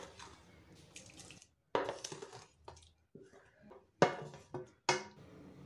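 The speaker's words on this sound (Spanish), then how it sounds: "en un bol voy a vertir el litro de agua" A litre of water goes into a bowl while homemade iced tea is being made, with several short splashing, clattering bursts separated by pauses, close by and fairly quiet, with no voices.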